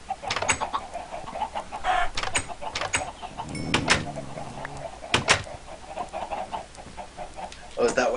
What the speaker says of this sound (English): This chicken is trying to kill us by letting zombies in.